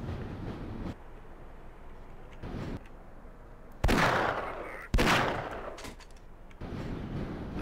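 Gunfire in the video game Half-Life: two loud, sharp blasts with trailing echoes stand out over a low ambient rumble, with quieter thuds scattered before and after.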